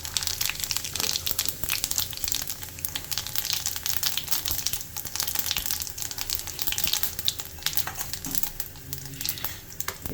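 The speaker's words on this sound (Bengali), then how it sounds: "এবার আমি এটাতে ফোড়ন দিয়ে দেব" Cumin seeds frying in hot oil as tempering, alongside dried red chillies and bay leaves, give a steady, dense crackling sizzle with scattered sharp pops, close and continuous throughout with no talking.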